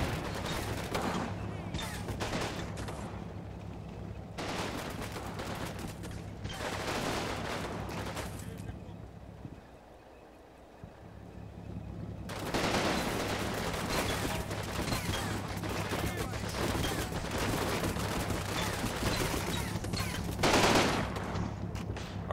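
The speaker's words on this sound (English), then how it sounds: "there's a lot of fire coming from that building on the top floor there" Sustained gunfire in a combat video game, with bursts of automatic fire from a building's top floor, loud and dense for most of the stretch with a brief lull in the middle.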